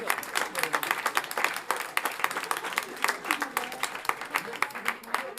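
An audience at a hackathon winners' announcement applauds the jury and the winning team with a steady burst of dense clapping from many hands. The applause is fairly close and lasts several seconds without stopping.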